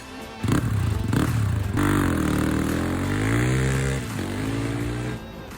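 A Kove 450 Rally desert-racing motorcycle with a 450 cc single-cylinder engine, heard while riding on the coast of Greece, drones loudly and continuously, its pitch rising and falling as the throttle is worked, with wind noise over it.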